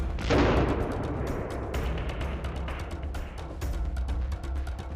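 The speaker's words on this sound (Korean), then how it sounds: "엄청난 폭발음과 함께 하늘로 솟구치는 연기." Sodium metal, about 5 g, dropped into a water tank bursts with a loud blast at the start, followed by sustained crackling, popping and rumbling turbulence throughout.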